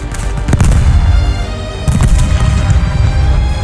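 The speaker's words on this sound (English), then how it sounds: "The Soviet counteroffensive began with overwhelming artillery fire across the frozen plains." Artillery fire during the Soviet counteroffensive at Stalingrad in World War 2, with two loud booms over a constant low rumble of distant heavy guns.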